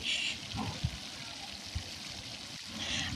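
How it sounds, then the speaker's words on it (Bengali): Rohu fish fries in hot oil in a kadai, a steady bubbling sizzle with small pops and clinks from cooking utensils, close up and without speech. "আমি এখানে রাইস কুকারে মাছ ভাজি না করে আমার কড়াইয়ে মাছটা ভাজি করে নিচ্ছি"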